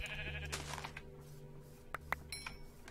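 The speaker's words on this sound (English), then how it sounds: "Here's a sheep, all right?" A sheep bleats in a survival video game, with short bleating calls among quiet ambient sound and a couple of sharp clicks near the end.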